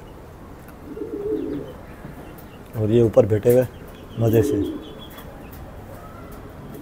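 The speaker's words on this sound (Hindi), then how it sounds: "ये देखिए कबूतर नीचे बोरे मोरे खा रहे रोटी के" Pigeons on the ground eating pieces of roti coo in a few soft throaty bursts, fairly close, while someone talks quietly between the calls.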